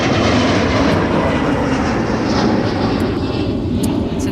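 An airliner takes off from runway 30 left at Minneapolis–St. Paul airport, a loud, steady broadband jet roar that stays close and constant throughout.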